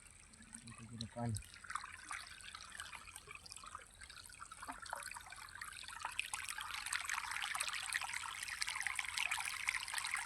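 Irrigation water trickles and gurgles steadily into a furrow of a gram (chickpea) field, the flow faint and close, growing a little stronger toward the end, with a brief low engine-like thump early on and a voice speaking over it.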